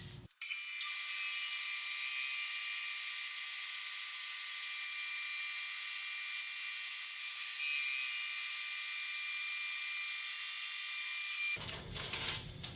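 A band saw cuts thin wood inlay strips from a board, a steady high-pitched whine lasting about eleven seconds, loud and alone, then stopping abruptly.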